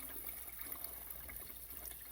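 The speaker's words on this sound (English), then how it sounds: "Fresh water flowing through a simple wooden trough, cold, clean, and steady." Cold spring water runs steadily through a simple wooden trough outdoors, a soft continuous trickle and gush, faint and even with no voices.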